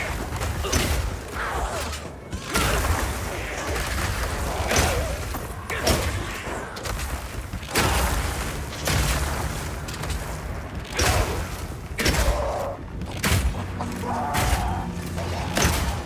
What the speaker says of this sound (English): Now I can fill up this area with ice walls, then shoot them with armor-piercing Burst Shot for a huge amount of damage.